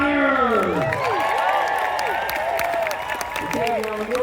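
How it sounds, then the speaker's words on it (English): A crowd at a Renaissance faire applauds the Knights of Iowa squires, with scattered claps mixed into loud whoops, cheers and overlapping voices near the listener. "let's round of applause for the Knights of Iowa Squires!"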